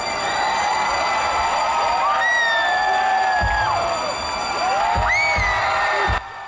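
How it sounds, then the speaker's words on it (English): A large live concert crowd cheers and whoops loudly and steadily, with rising shouts and whistles carrying over a dense, continuous roar of voices. "So a lot of crowd noise."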